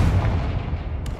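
A Confringo fire spell blast in Hogwarts Legacy booms out as a short, dense, rumbling burst with heavy low-end weight, sustained loudly across the whole moment with no voice.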